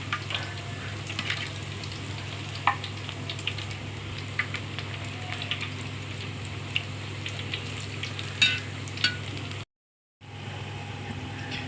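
Onion garelu, lentil fritters, deep-frying in hot oil give a steady close sizzle and crackle with scattered louder pops, dropping out briefly near the end before resuming.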